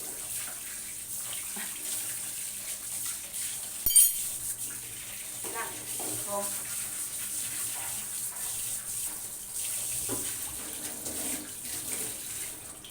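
Tap water runs steadily into a sink while a pumpkin is washed for candying, a soft continuous splash with occasional clinks of handling and a brief louder knock partway through.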